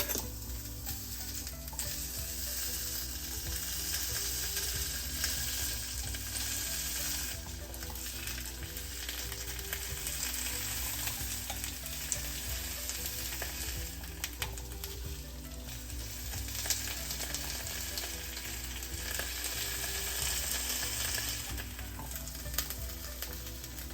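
Potatoes fry in olive oil in a pan with its lid pressed on, giving a steady, dense sizzle that continues loud and unbroken throughout. No one speaks.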